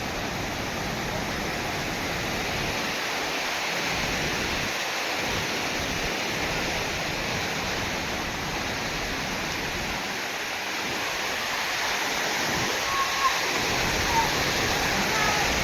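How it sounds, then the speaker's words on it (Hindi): Water overflows and rushes steadily at a dam or water channel, a loud, continuous broadband roar that holds unbroken throughout with no clear voices above it. "पानी पूरा ओवरफ्लो हो जाउছে"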